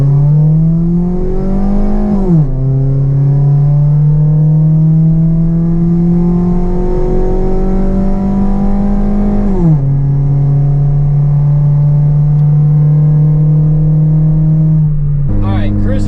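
A modified 4G Mitsubishi Eclipse with a droning aftermarket exhaust cruises loudly and steadily, its low drone rising through the gears with a couple of shifts that drop the pitch, close and constant throughout.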